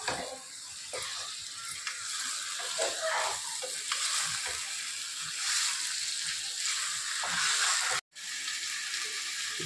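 Masala for a mutton curry fries in a pan, a close, continuous sizzle broken by scraping stirs, with one brief dropout near the end.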